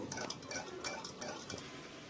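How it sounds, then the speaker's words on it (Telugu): A spoon scrapes and clinks against a bowl in quick, repeated strokes while semolina is stirred with a little water, quiet and close. "ఒకసారి బాగా కలుపుదాము"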